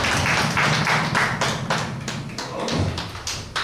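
An audience claps after a Korean history lecture, a steady and fairly loud applause with a rhythmic, pulsing feel and no talk over it.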